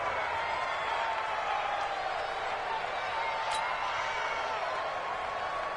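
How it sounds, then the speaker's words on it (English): Steady roar of a stadium crowd in an American football video game, cheering building ahead of a big third down; continuous dense noise throughout with a commentator talking over it. "the crowd getting into it as we come up on a big 3rd down"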